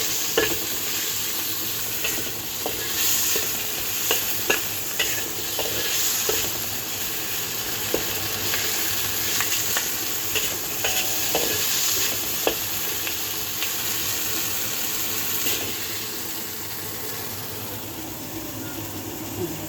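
Shrimp with egg and onion stir-fried in a hot pan, a continuous loud sizzle with repeated scraping and clattering stirs throughout, close up and without speech.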